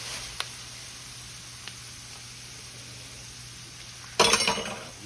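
Roux of flour and fat cooking in a pan: a low, quiet background hiss broken by a couple of small ticks, then a sudden loud sizzle bursts up near the end and slowly fades.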